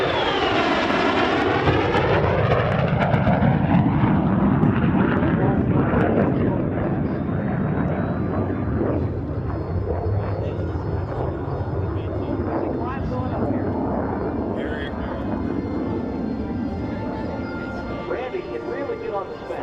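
A MiG-17 jet fighter with a VK-1M afterburning engine roars past at an air show, its pitch sweeping downward as it passes, then settles into a sustained distant rumble with a voice talking over it.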